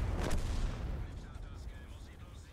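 A tank cannon fires in a video game, a sharp booming shot near the start followed by a decaying rumble and faint background game sounds.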